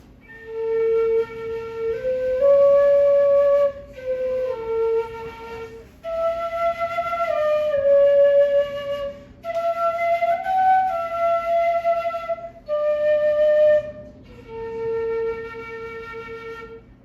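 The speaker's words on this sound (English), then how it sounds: "this one, when I play it, it will sound nice and warm, sounding like a normal flute" A Chinese flute with masking tape on it plays a slow, warm melody of sustained notes in phrases separated by short pauses, close and clear with no talking.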